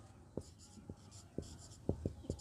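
Pen or chalk writing during a class 10 maths lesson on real numbers, heard as a few soft, scattered strokes and taps with quiet pauses between them, close by and faint, with no talking.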